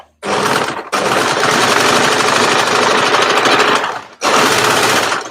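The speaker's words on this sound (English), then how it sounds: "I'm just going to whiz a little piece of single fabric through" A sewing machine runs fast through a single layer of fabric, a loud, close, rapid mechanical chatter in three bursts broken by two short pauses.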